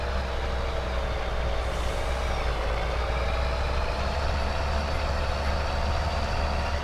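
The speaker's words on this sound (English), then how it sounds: "Now let's get this beast of a truck and trailer" A heavy truck pulling a trailer in Farming Simulator 22 drones steadily with a loud, constant engine rumble and no break in the noise.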